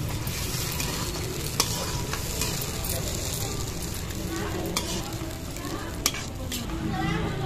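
A spoon stirs a frying masala of onion, green chili, fenugreek seeds and ground tomato in oil for a tilapia curry, with a steady sizzle and a few sharp scrapes and clinks against the pan.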